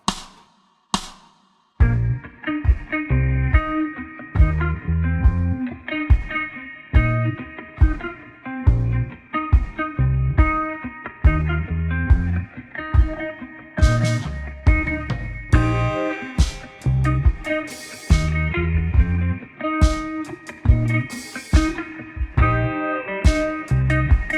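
Slowed-down electric guitar riff from a song with short plucked and muted notes over a steady backing track with drums and bass, continuous and fairly loud.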